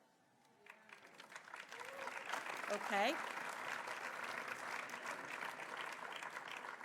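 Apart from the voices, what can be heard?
audience applause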